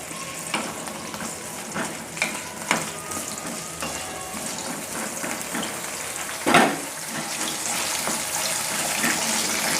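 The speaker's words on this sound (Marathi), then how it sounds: "दोन मिनटं फुल गॅसवर मी अशा ह्या शेंगा तेलामध्ये फ्राय करून घेतलेल्या आहेत" Drumstick pods frying in oil over a full gas flame give a steady crackling sizzle, with occasional stirring clatters and one sharper spatter burst partway through.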